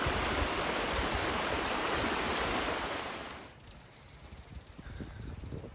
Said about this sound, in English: See, the river's rushing pretty good.